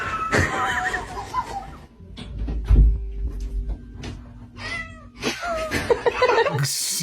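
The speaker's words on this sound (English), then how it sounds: "The cat just wanted to be let out, okay?" A house cat meows to be let out, with several drawn-out, wavering cries close by, then a quieter stretch of clatter and rustling, and more meowing at the end.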